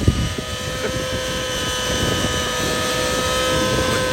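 A Tron 700 RC helicopter, converted to nitro power, flies with a continuous loud engine and rotor drone that holds steady over several seconds, with wind rushing across the microphone.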